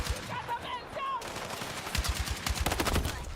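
LMG machine gun fire in the game Battlefield 6, rapid rhythmic bursts of shots that grow denser and louder in the second half, close and punchy over the game's background noise.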